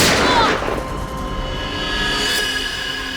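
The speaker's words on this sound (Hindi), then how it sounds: "उसके बाद दूसरी गोली चली" A single gunshot sound effect strikes at the start with a sharp boom, then rings out into a decaying tail with a faint whoosh partway through.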